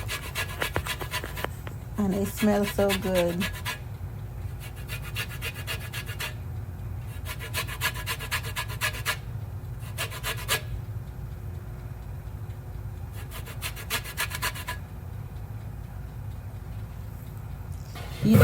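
A tangerine is zested on a fine grater in several separate bursts of quick, close rasping strokes, with quiet pauses between them and a person speaking briefly.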